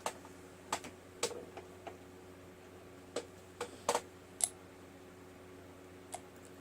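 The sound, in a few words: cartridge dropping into pistol chamber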